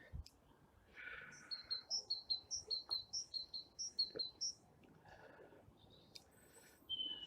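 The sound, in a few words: birdsong in a winter garden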